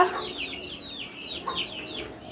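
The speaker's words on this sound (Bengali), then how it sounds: "এই যে এখানে হচ্ছে দেশি মুরগির বাচ্চা" A native hen and her young chicks cluck and peep close by, with quick, high chirps repeating over soft, steady clucking, no voices.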